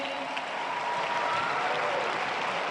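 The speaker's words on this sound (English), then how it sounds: "he deserves a round of applause" Steady applause from a tennis crowd in Dubai, continuous and even throughout with no break.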